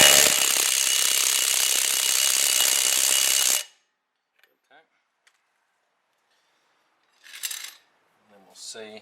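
A Milwaukee M18 FID next-gen Fuel impact driver torquing up a bolt, a loud harsh rattling hammer burst for several seconds, then near silence with small clicks and brief voices.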